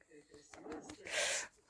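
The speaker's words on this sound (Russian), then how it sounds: "Вот он, главный храпун у нас дома." A house cat snoring close by: soft rustly breaths, then one loud, breathy snort-like wheeze near the end, with a short sharp sound right at the close.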